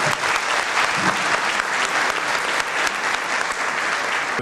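An audience at a university conference claps to welcome a journalist-author to the stage, loud, dense applause sustained evenly from start to finish.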